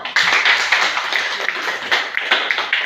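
A class of students clapping their hands together in a classroom, a loud burst of irregular, overlapping claps that continues for about three seconds.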